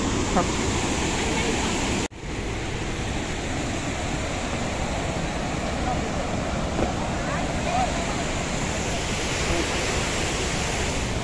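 Dhuandhar waterfall at Bhedaghat roars as a steady, loud broadband rush of falling water, unbroken apart from a brief dip, with no talk over it.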